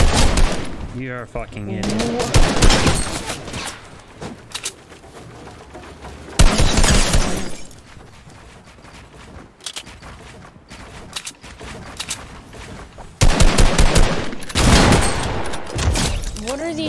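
Gunfire in a shooter video game, with loud bursts of rapid automatic fire coming in several long volleys separated by short lulls, and a voice speaking over it at one point.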